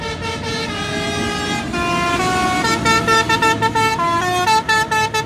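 Loud truck air horns blare a melody in sustained and short tooting notes, the rhythm quickening into staccato bursts near the end.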